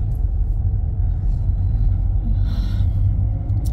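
A car driving along a road, heard from inside as a continuous low engine and tyre rumble, steady and fairly loud, with a brief faint hiss midway and no talk.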